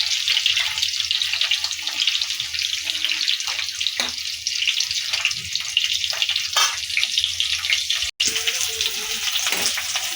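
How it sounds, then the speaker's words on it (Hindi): Steady hiss and sizzle of frying in a pan while kavach sabzi is cooked, continuous and fairly loud with faint kitchen clatter, no speech. "ये तल गया है।"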